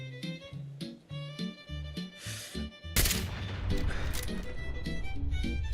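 Gunfire in Fallout 4 combat, sharp shots that start after a stretch of musical tones and then give way to dense, loud bursts of firing, with someone talking over parts of it.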